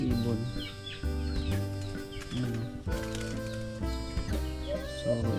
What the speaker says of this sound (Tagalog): Ang dami nilang ibon dito, oh.